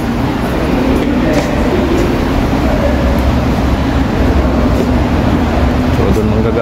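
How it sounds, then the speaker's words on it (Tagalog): A train pulls in at a Tokyo station platform near Shinjuku with a loud, steady rumble and low mechanical roar, with squeaks and clatter on top, as platform noise fills the background. "So doon manggagaling yung train papunta ron."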